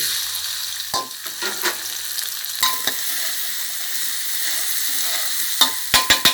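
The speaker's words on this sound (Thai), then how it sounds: "น้ำมันโอลีนค่ะ หนึ่งช้อนแกง พริกแกงค่ะหนึ่งขีดใส่ลงไปเลย" Thai curry paste fried in a spoonful of palm olein oil for a stingray stir-fry: a steady, loud sizzle throughout, with scraping stirring sounds and a few sharp clicks near the end.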